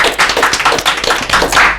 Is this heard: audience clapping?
yes